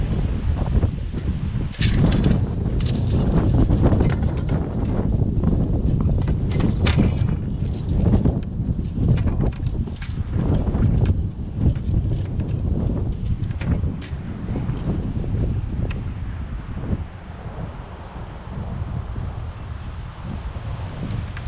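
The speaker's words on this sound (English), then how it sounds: "it's pretty windy out" Strong wind buffets the microphone outdoors, a loud continuous rumbling roar with gusty surges throughout.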